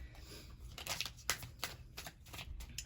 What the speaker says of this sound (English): I'm just going to shuffle the cards a little bit